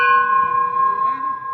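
A bell on an emergency vehicle rings with a sustained, loud metallic tone and steady overtones for over a second, close by.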